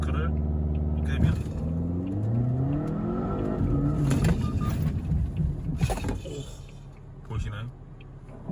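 A Volvo S60 Polestar engine is held at high revs under launch control, droning steadily, then its pitch sweeps and surges as the car launches, with someone speaking over the noise.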